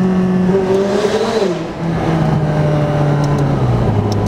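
A McLaren 570S Spider's turbocharged engine pulls hard under acceleration, its pitch climbing, dipping briefly at a gear change, then rising again, loud and close.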